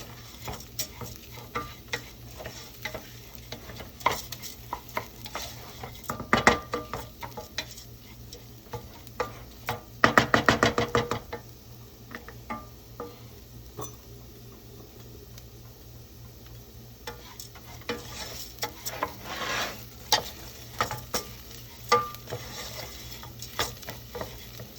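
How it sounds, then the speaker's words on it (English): Rice toasting in olive oil in a pan for a risotto base, a soft continuous sizzle punctuated by scraping stirs and ticking clicks of a utensil against the pan, with louder bursts of stirring partway through. "A nice sizzle with the rice toasting."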